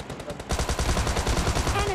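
Rapid automatic gunfire in PUBG Mobile Lite, a fast, even string of loud, close shots that starts softer and then hammers steadily to the end.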